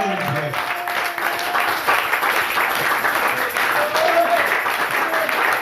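A church congregation applauding and cheering during a worship service, sustained dense clapping with raised voices, filling the room throughout.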